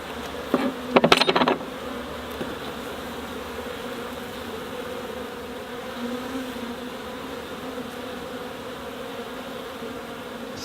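Honeybees in a hive infested with small hive beetles hum in a steady, dense drone throughout, with a brief clatter of frame handling near the start.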